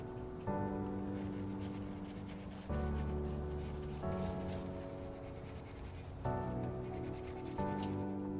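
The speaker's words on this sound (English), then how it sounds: "So we're gonna take care of this ugly gasket surface. I got some 2000 grit sandpaper." Repeated rubbing of 2000-grit sandpaper across the gasket surface of a Kawasaki Ninja 1000 clutch cover, a steady scraping in long strokes under a continuous tonal background hum.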